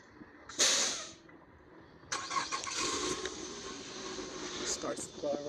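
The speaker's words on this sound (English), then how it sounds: "starts the car up," A Nissan Altima's engine is started by remote, firing up sharply and settling into a steady idle, with a short chirp or beep from the car beforehand and a voice talking over it.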